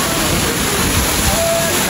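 A waterfall roars in a steady, loud, continuous rush of falling water with no breaks. Voices can be heard faintly over the noise.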